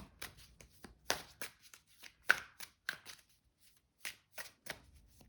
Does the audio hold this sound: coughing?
no